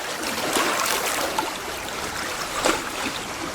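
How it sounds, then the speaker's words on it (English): Water laps gently against the shore of a Scottish loch, a soft continuous wash with small splashes and trickles, fairly close and steady with no voices. "Oh, the sounds of the lake"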